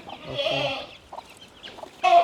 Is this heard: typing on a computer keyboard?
no